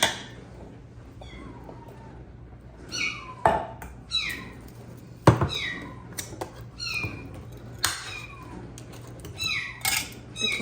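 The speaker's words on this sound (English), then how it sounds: "Kitten is so loud." A kitten meowing loudly and insistently in a home kitchen, repeated cries at irregular intervals, some short and sharp, others drawn out, close to the listener with faint household clatter between calls.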